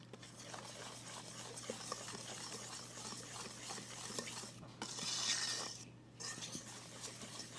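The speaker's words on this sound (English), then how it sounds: "So now I'm going to add the flour mixture, and we're still going to use our whisk" A whisk stirs flour mixture into chocolate cake batter in a bowl, a soft steady scraping and swishing that is faint and close, with a slightly louder stretch partway through and no talking.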